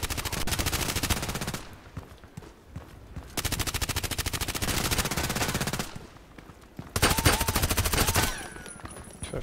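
Rapid automatic gunfire from the online shooter game Contract Wars comes in loud, dense bursts of repeated shots, separated by brief quieter gaps, with faint game sounds between the volleys.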